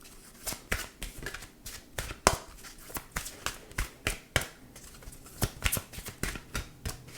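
Oracle cards from an Angel Answers deck being shuffled during a pick-a-card reading: a quick, uneven run of crisp riffling snaps and papery flicks, close and fairly quiet, with no talking.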